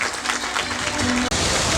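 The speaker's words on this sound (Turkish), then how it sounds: "Alkışlarınız lütfen kesilmesin" Audience applause at a bridge and junction opening ceremony in Istanbul fills the space, a broad crowd clapping under faint background voices, briefly cutting out near the end before resuming just as full.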